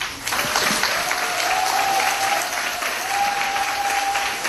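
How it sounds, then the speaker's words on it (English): A school workshop audience in Cheonan breaks into loud, sustained applause, a dense even roar of many hands that holds steady for several seconds with no talk over it. "Please welcome her with a round of applause once again"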